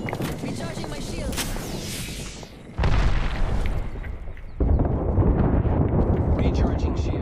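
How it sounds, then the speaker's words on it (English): An airstrike in the Apex Legends video game lands as a pair of heavy booming blasts that step up abruptly in loudness and rumble on, with voices talking over the din. "Airstrike."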